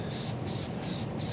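Graphene wax spraying onto car paint, four evenly spaced hissing bursts from a trigger sprayer, close and steady, each about a quarter second with short gaps.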